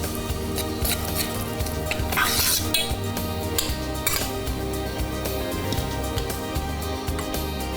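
Metal spoon scraping and clinking against a pan while milk powder is stirred into sugar syrup for barfi, in a brisk, continuous rhythm.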